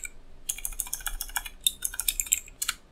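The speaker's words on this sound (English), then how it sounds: "So I'm gonna hit Shift and C and type set vertex weight." Fingers type a short command on a computer keyboard in 3D modelling software, a close, crisp burst of quick key clicks in two uneven runs with a brief pause between, and no talking.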